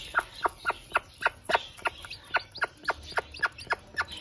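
An Aseel hen with a newly hatched chick gives a run of soft, evenly spaced clucks, about three a second, close and clear over a quiet background.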